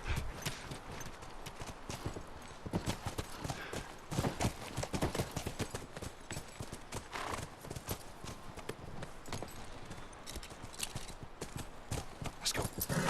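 Horse hooves in The Last of Us Remastered clip-clop in a fast, steady rhythm, close and continuous, with faint game ambience underneath.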